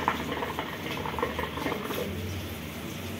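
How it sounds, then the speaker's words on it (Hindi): Water bubbles steadily inside a hookah base filled with cold water as someone draws on it, a close, continuous gurgling with small irregular pops. "तो देख सकते हो गाइस, हुक्का बहुत अच्छा चल रहा है।"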